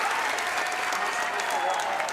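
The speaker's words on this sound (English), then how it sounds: "Listen to that crowd." Dense applause from a live audience at the close of a show, a steady wash of clapping with possible cheering mixed in, loud and even throughout with no pauses.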